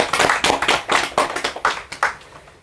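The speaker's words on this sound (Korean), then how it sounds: "박수 한번 치시게 해주세요." An audience at a public debate forum claps in loose bursts, a dozen or so sharp, close hand claps that swell and fade unevenly before trailing off.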